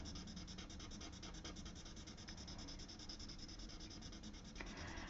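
A colored pencil rubs steadily across paper in a continuous, close, quiet scratchy stroke with even texture, heard alone with no talking.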